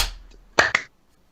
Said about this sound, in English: We're going to do a sync clap, so it'll be 1, 2, 3 clap